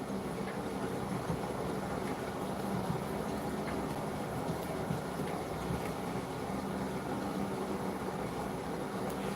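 A train goes past in the distance, a steady low rumble that holds evenly for several seconds with no voices over it.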